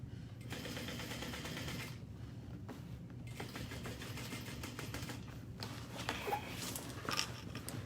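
A sewing machine topstitches a bag with a steady, low mechanical whir and rapid needle clatter. Brief pauses and small handling noises break the run, and the machine stays fairly quiet throughout.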